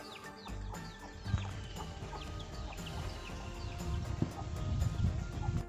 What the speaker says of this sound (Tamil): என் கோழி கூடு.